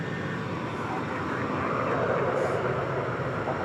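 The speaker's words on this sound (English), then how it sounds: "That was American Flight 2806 off to Minneapolis, St. Paul, 737-800." An American Airlines Boeing 737-800 departs DFW Airport at night, bound for Minneapolis–St. Paul, its steady broadband jet roar holding loud and constant throughout, with a slight swell toward the middle.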